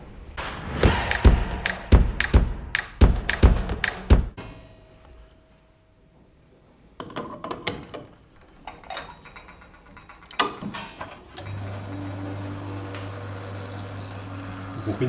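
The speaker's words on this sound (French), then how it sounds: "On tire les shots maintenant." An espresso machine pulling shots is heard as a run of clattering knocks and thuds of handling, quieter scattered clicks, then a steady humming pump drone that settles in toward the end.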